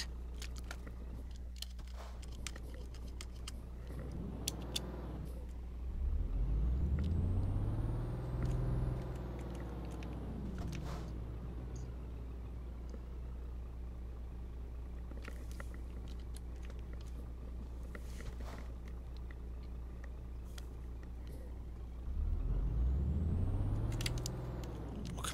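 A Scania truck's engine rumbles in Euro Truck Simulator 2 with a low steady drone, swelling twice as it revs up and shifts, each surge rising in pitch and then settling back, with faint clicks in between.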